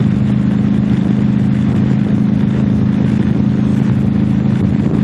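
Motorcycle riding along the Garden State Parkway, a steady loud engine drone with continuous wind and road rush throughout, no pauses or talking.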